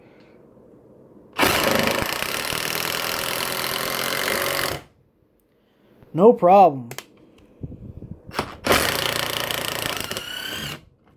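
Two loud bursts of a cordless impact driver whirring and hammering rapidly as a 3.5-inch screw is driven, separated by a brief spoken remark.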